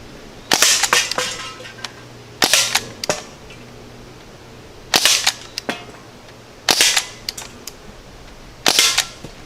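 Umarex Ruger 10/22 CO2 air rifle firing hollow point pellets: five sharp, loud cracks spaced a couple of seconds apart, each followed by a short clatter, with no talking.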